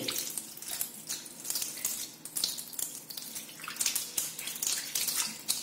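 A toilet supply valve that has been opened, fed from a tank or pump, lets out a strong, steady rush of water that stays close and fairly loud without a break.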